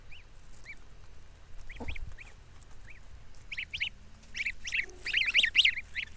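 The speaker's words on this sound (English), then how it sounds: "We call them Biao Biao because that's the sound they make when they're babies" High, thin peeping calls from goslings, repeated in short bursts that grow busier and overlap toward the end, with no talking.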